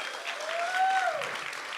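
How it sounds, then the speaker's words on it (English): An audience at an entrepreneur speaker event applauds in a short burst of dense clapping, with a faint whistle-like tone rising and falling through it. "let's all of you here give yourself a round of applause"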